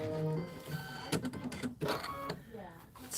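A computerized embroidery machine stitches an applique placement line in the hoop for a holiday rope bowl project, giving a rapid mechanical chatter with short pauses and restarts, close and fairly loud while someone speaks over it.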